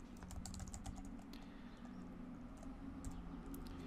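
Fingers tap out a file name on a computer keyboard, a quiet flurry of light, quick clicking keystrokes over a low steady hum, close but faint.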